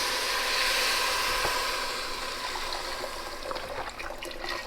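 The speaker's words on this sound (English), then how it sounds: "We're going to go ahead and add in our broth." Vegetable broth pours from a carton into a soup pot of lentil soup, a steady loud gushing splash that gradually thins toward a lighter trickle, with no talking.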